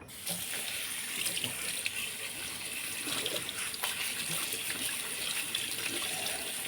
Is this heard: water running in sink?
yes